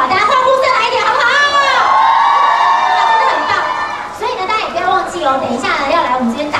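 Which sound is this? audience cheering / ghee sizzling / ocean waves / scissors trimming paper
audience cheering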